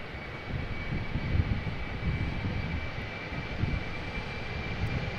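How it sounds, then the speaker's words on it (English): A KLM Embraer 190 departing Amsterdam Schiphol for Bristol produces a steady, distant jet engine roar and rumble that holds evenly throughout, with a faint high tone running through it. "1053 going to Bristol, Embraer 190."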